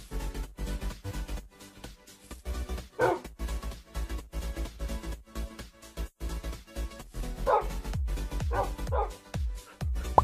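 Dogs from a Minecraft Bedrock texture pack bark in scattered short yips and woofs over a constant pulsing music bed, the barks clustering near the middle and end.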